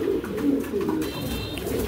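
A domestic pigeon with a white bar coos softly close by, its low rolling calls repeating several times under a faint background hum.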